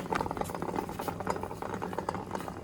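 Old candle wax pieces drop into a container of fully melted wax, giving a close string of soft clunks, stirring scrapes and rattles at a steady, busy level.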